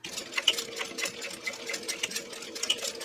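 Sewing machine stitching two lines along a clutch bag strap with a swivel clasp, a steady close whirring run with small bursts and pauses in pace, alone without talk.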